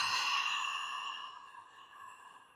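A single long audible exhale through the mouth during a pilates exercise, breathy and close, fading gradually over about two seconds.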